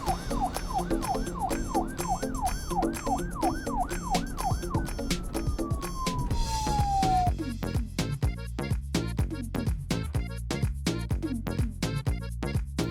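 Cartoon police car siren from a children's animated series about vehicles, a loud wailing tone sweeping up and down repeatedly, then a rising whoop, followed by rapid rhythmic beeping and clattering effects, with no talking.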